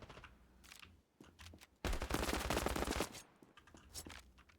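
Automatic gunfire from a gun jammed on continuous fire in the mobile shooter Standoff 2, with bursts of rapid shots that swell into a loud sustained stream in the middle, then thin out again.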